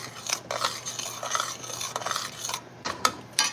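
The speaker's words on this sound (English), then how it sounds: "It actually needs a bit of a stir." A utensil stirs and scrapes thick homemade pasta sauce in a pot, steady close clinking and scraping with a few sharper metallic taps.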